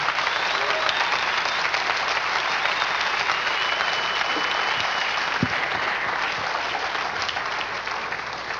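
Church congregation applauding during a Sunday sermon, dense, steady clapping from a large crowd sustained at an even level for several seconds before easing slightly.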